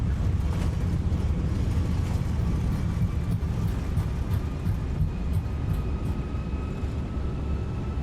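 Airbus A318-100 jet engines spooling in reverse thrust after landing in a flight simulator, a steady loud broadband roar with low rumble and faint whine held throughout.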